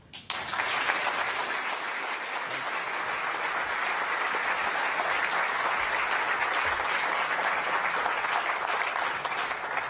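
A large audience at a live public astronomy talk breaks into loud, sustained applause that starts abruptly and holds steady as a dense wall of clapping for the full stretch.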